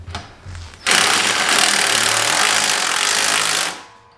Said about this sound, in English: Now's the time where it might be okay to actually use a impact to loosen it.